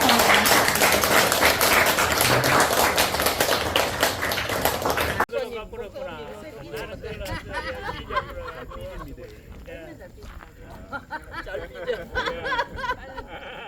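Hearty clapping from an audience closing a humanities forum lecture fills the first five seconds, then stops abruptly, leaving scattered voices talking in the room.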